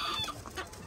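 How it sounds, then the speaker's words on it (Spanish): A hen at a breeding farm clucks in short, close, soft bursts during a single brief moment. "Y acá está la gallinita, miren."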